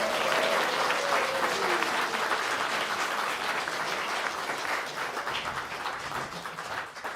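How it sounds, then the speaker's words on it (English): Audience applause at a MySQL community live stream event, a steady wash of clapping from a crowd that holds fairly even and thins slightly toward the end. "big applause for"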